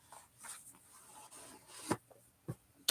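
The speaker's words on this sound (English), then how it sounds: "I'm gonna shuffle the Starman Tarot too" Tarot cards being shuffled give quiet, soft papery rubs and riffles, with a few sharper slaps near the end, faint and close in an otherwise quiet room.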